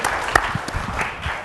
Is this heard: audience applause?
yes